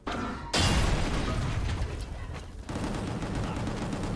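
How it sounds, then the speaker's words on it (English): In a video game a rocket launches and explodes, a sudden loud blast followed by a sustained rumbling roar with a second surge. "Rocket to the face."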